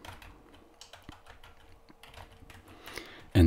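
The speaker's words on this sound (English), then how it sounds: "let me just type" Computer keyboard typing, a steady patter of quiet keystrokes close by with small clatters, ending in a louder thump.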